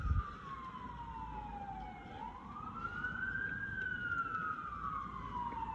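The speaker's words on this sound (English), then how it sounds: "What you hearing coming out here is a fire truck." A fire truck siren wails in the rain, its pitch sweeping down, then up and down again, fairly distant and steady over a faint background hiss and traffic rumble.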